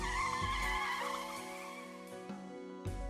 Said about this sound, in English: Then a familiar black car pulled up, brakes screeching right next to us.